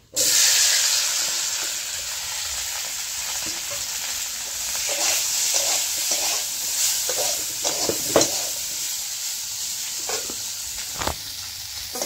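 Potatoes fry in a hot pan, a loud continuous sizzle and hiss broken by scraping and clinking as they are stirred, with no talking over it.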